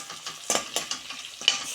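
Fresh curry leaves hit hot oil in a pan and crackle with quick, uneven pops over a continuous sizzle. It sounds close and clear, with no speech.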